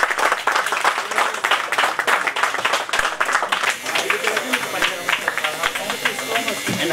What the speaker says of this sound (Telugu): రామకృష్ణ గారు గట్టిగా చప్పట్లు కొట్టాలి.